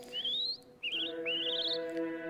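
A small bird in the video game Reigns gives three quick rising tweets, each a bright chirp, over a soft steady musical drone; no talking.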